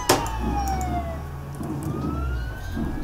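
Police car siren in the Roblox Jailbreak video game, a loud steady electronic wail with sweeping pitch over a constant low engine drone, close and uninterrupted.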